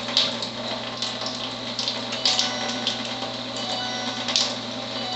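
Tyent water ionizer switched to turbo mode at level 4, giving a steady machine hum with running water flow and faint intermittent clicks, continuous and close with no talking.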